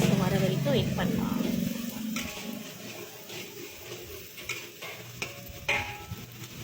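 Squid being stirred in a hot pan for a Sotong Perattal stir-fry, with scraping utensil strokes and a steady sizzle; a voice talks over the first couple of seconds, then sporadic stirring clinks continue under the frying.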